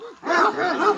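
Dogs at the start of a race give short yips and bow-wow barks in quick succession, close and fairly loud, with a brief quieter gap before a denser run of barking.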